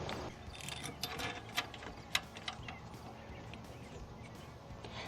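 Ratchet clicking as alternator bolts are threaded back in on a Ford Bronco, quiet irregular metallic clicks and taps up close in a workshop.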